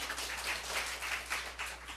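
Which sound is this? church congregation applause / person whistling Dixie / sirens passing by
church congregation applause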